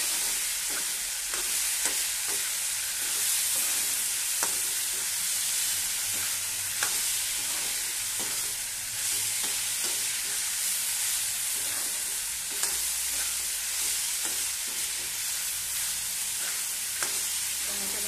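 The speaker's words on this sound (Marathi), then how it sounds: "मी बटाटाही तेलामध्ये छान असा परतून घेणार आहे" Potato pieces fry in hot oil with a continuous, even sizzle, broken by regular spoon scrapes and clinks as they are stirred around the pan, close and steady throughout.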